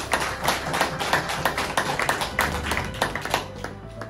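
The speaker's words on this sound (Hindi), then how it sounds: "एक बार सभी शेयरों के लिए जोरदार ताली।" An audience gives loud applause for shares at a motivational talk, a dense burst of clapping that fades toward the end.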